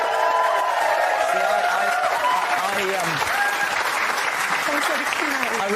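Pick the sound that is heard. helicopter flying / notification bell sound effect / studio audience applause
studio audience applause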